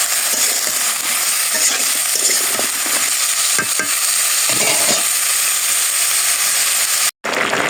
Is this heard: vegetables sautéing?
yes